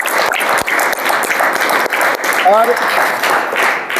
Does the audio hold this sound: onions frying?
no